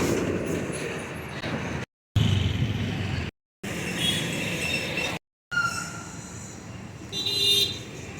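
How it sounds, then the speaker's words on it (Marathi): Busy highway traffic with vehicles roaring past close by and brief horn toots, a continuous loud rumble of engines and tyres broken by a few short cuts, with no talk. "हायवेला इतकी गाड्यांची गर्दी"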